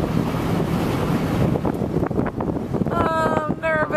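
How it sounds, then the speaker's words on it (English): Wind buffets the microphone at a sandy ocean beach, with rushing waves and surf forming a loud, continuous roar, and some higher tonal chirps near the end. "That's the ocean for you."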